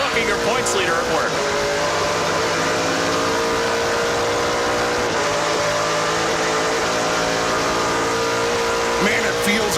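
NASCAR Pinty's Series race cars roar loudly along the track at the 2018 Total Quartz 200. The engine noise is continuous and dense, with rising and falling whines as the cars pass, and commentary talk runs underneath.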